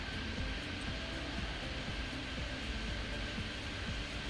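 Steady, loud jet engine roar of a plane departing runway 07 left in the airport simulation game Airport Madness 3D, a continuous broadband rumble with no talk over it.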